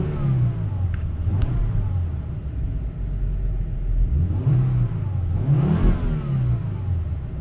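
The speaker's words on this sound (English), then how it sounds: "let's give it some revs" A Volvo S60R idles in a low rumble with the air conditioning on, then its engine is revved twice in quick succession, each blip rising and falling back to idle, fairly close.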